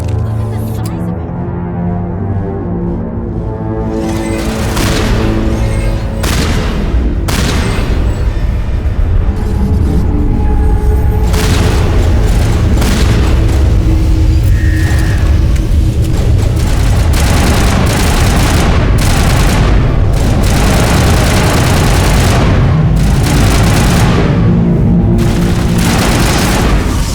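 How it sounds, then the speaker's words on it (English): Booming gunfire from a large ship's guns, heavy repeated blasts rolling loud and near over a long stretch, with voices talking at times. "Guns are loud."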